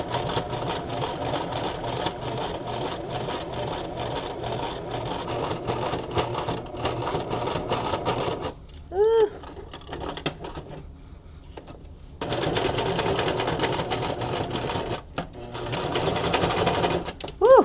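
A sewing machine runs a steady straight stitch along the hem of a sequin purse, humming with a fast mechanical rattle, stopping briefly in the middle before starting up again.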